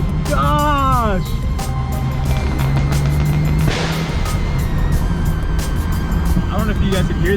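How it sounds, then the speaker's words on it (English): BMW F8X M car exhaust while driving in the rain on a Northern California cruise, heard as a loud, continuous engine and road roar with sharp cracks and pops scattered across it, under talk. "I don't know if you guys can hear that, but bangs are crazy"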